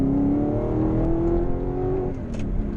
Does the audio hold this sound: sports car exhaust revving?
yes